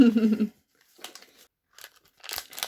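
A plastic blind packet holding a collectible Disney Doorables figure is crinkled and torn open in several short bursts after a brief spoken word, close and crisp with quiet gaps between.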